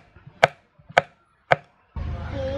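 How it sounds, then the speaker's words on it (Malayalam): Garlic being finely chopped with a knife on a board: three crisp, evenly spaced chops about half a second apart, close and clear, followed by a burst of steady broadband noise. "വെളുത്തുള്ളി നമുക്ക് ചെറുതായിട്ട് അരിഞ്ഞെടുക്കാം"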